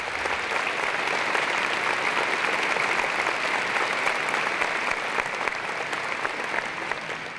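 Sustained applause from a large audience at an annual business meeting in Mississippi as star teachers stand to be recognized, a dense, even wash of clapping that continues at steady volume throughout.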